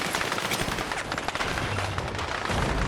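In the Battlefield 6 video game, a 50-calibre turret machine gun rattles in continuous dense automatic bursts, loud and close, with booming impacts layered beneath.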